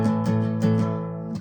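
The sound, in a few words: A chord strummed on guitar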